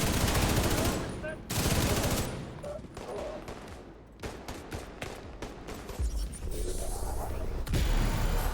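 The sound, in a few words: light machine gun fire in The Division 2 video game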